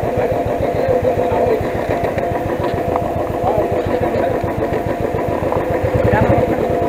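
A motorcycle idles steadily, close and loud, with a rapid, even thumping pulse as it is brought in to park at a hotel in Aurangabad during a solo ride, while people talk over it.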